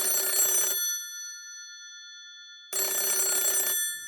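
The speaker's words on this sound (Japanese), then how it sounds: "電話が鳴り続けると" A public phone booth's telephone rings in two loud bursts of electronic ringing separated by about two seconds of silence, with no voices.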